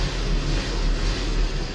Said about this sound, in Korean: 그 다음 엔진 소음요